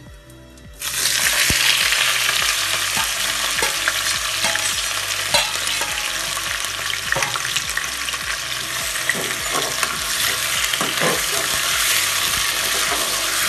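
Loud, steady sizzling of potatoes and cumin seeds frying in a hot pan, with a spoon scraping and stirring at regular intervals throughout.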